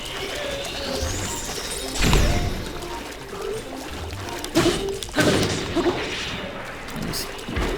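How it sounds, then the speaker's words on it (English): Weapon striking an object on the Great Plateau in Zelda: Breath of the Wild, a few sharp thuds and smacks spaced a couple of seconds apart over steady game ambience. "I'll hit it with a weapon"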